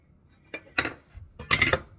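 Dishes clink as chopped onion is moved from a container into a bowl in a home kitchen, three or four sharp ceramic knocks and scrapes spaced apart, close and moderately loud with no talking.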